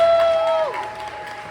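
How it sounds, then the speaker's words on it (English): Audience applause for an award recipient at a park Legacy Award presentation, a steady wash of clapping with a brief tonal whistle or cheer at the start that slides down and fades. "Clap it up for Fred one more time, everybody"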